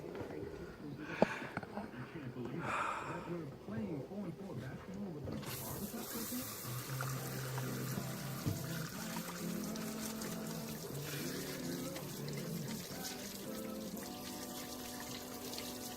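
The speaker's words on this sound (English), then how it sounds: "I gotta wash my hands." Running water from a faucet while someone washes their hands at a farm, a steady splashing stream that starts partway through and continues close and clear, with faint speech beforehand.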